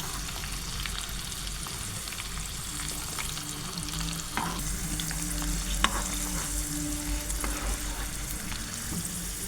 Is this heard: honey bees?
no